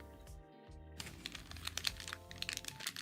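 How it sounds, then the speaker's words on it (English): Rapid keyboard typing: a fast, irregular patter of light clicks runs through most of the clip, close to the mic. A steady tonal hum from other sounds lies under it, and a short gap comes near the start. "You're fast and furious typing?"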